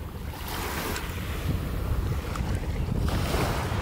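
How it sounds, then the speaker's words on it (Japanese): Ocean waves wash steadily onto a rocky beach by a campsite, a continuous close surf roar with wind noise buffeting the microphone throughout. "油断してるとね波かかっちゃいそうだけど"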